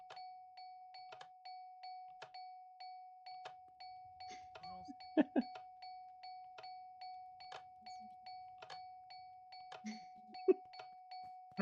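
A doorbell chimes over and over in a steady, rapid rhythm, the same bright two-tone ding repeating loudly for the whole stretch, with a few brief voices and thumps breaking in now and then.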